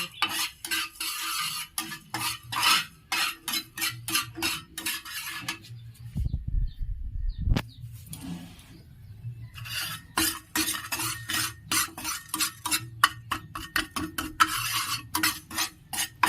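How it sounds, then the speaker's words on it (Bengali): A metal spatula scrapes and clatters rhythmically against a pan as ingredients are stirred and fried, with rapid repeated strokes, a short pause mid-way, and a soft sizzle beneath. "কিছুক্ষণ নাড়াচাড়া করে নেব একটু লাল করে ভেজে নিয়ে"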